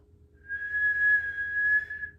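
A child's clear, steady whistled tone held for about a second and a half, fairly close, with faint low rumble underneath and no talking.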